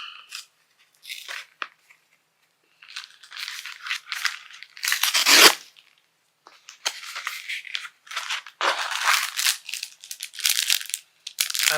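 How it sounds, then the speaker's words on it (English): A thin subscription-box envelope is torn open and handled up close, with bursts of ripping and crinkling paper separated by short pauses; no talking. "This looks like an envelope. Do we see how thin it is? But we're gonna open it."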